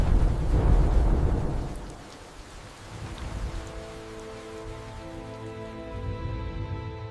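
A thunderstorm in a dramatized scene opens with a heavy thunder rumble that fades into steady rain, with later softer rolls of thunder under a faint tonal music bed.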